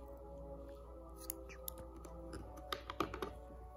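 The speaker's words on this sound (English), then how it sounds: "And now you can cut off the yarn." Scissors snipping through yarn while joining squares and cuffs on a hand-knit popcorn stitch sweater, a few quiet close clicks and snips over faint room noise.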